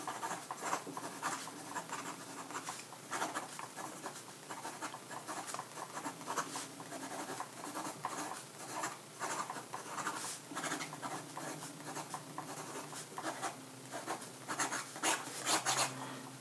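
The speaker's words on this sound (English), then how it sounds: "Just to do some quick writing." A Moonman/Majohn A1 capless fountain pen scratches across paper in quick strokes of writing, a soft, close, irregular rustle with no talk.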